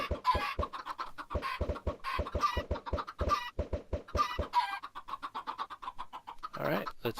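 Chickens in the Minecraft video game cluck in rapid, repeated bursts, several quick clucks in a row, fairly faint, with no talking.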